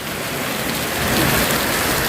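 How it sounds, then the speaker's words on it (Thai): Heavy rain pours steadily and loudly in Vientiane, a dense continuous hiss of drops hammering surfaces with no talk over it. "ตอนนี้ฝนตกแหงเนาะเฮ็ดจังใดก็บ่ได้เนาะทุกคน"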